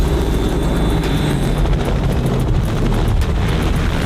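In a video game, a helicopter gives a loud, close, continuous roar with a steady whooshing rumble that holds evenly throughout, with no voices.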